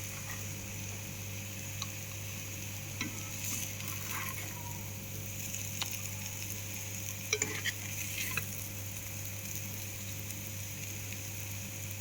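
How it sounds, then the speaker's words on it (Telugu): Upma cooking in a pan on a low flame, a soft steady sizzle with faint scattered stirring ticks and scrapes, no voices. "సో లో ఫ్లేమ్లో పెట్టుకొని ఇలా ఉడికించేసుకుంటే ఉప్మా ఈజ్ రెడీ"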